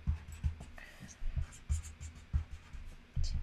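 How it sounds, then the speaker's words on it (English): A pen drawing hearts on paper, producing soft rhythmic scratching strokes close up, with faint quiet talk underneath. "I think I need to draw some hearts on here."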